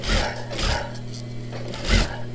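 A sewing machine back-tacking fabric for a medical face mask, running in short bursts separated by brief pauses, close and fairly loud over a low hum.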